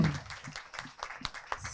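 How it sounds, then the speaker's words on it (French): Scattered audience clapping at a French conference, fairly faint and sparse, with individual claps standing out rather than forming a full roar. "Je pense que vous pouvez l'applaudir."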